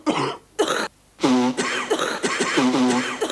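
Several harsh coughs and throat-clearing sounds come in short bursts with brief pauses between, close and fairly loud, no talking.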